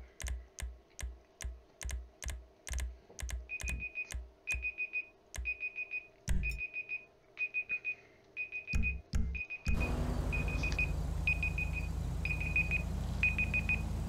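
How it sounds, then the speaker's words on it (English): In Grand Theft Auto V with the LSPDFR police mod, a timer alarm beeps in an even repeating pattern of short high tones, coming in after a run of rapid keyboard-like clicks, then continuing over a steady background hum. "My timer going off."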